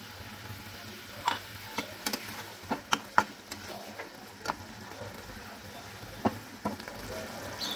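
Fish curry with orange juice simmers in a pan, giving a soft steady bubbling hiss dotted with scattered small pops and ticks, faint and close.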